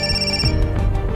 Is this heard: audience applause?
no